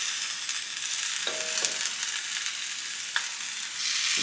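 Ground beef sizzling and frying in a pot over low heat, a steady close hiss with faint crackles and a brief scrape of stirring, with no one talking.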